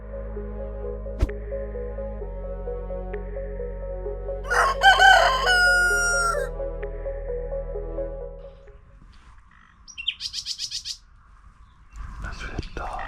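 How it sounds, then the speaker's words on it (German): A rooster crows loudly and close by at sunrise in rural countryside, one long drawn-out call over a low steady hum, followed later by a short burst of quicker chirping bird calls. "Die Vögel sind ganz nah."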